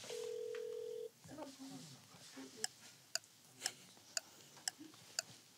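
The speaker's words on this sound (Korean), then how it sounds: "전화 걸고 바로 끊으셔야 돼." A phone call being dialed: a steady dial tone gives way to a quick string of sharp, evenly spaced beeps and clicks, with people speaking softly in between.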